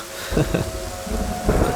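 Rain and thunder in a film scene, a steady wash of rainfall with low rumbling swells rising twice, set beneath background dialogue.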